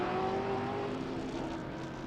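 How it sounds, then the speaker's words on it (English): Vintage Camaro race cars roar around the Sebring circuit, a loud, sustained engine drone heard from a distance without talk. "The older generation Camaro moves around the younger."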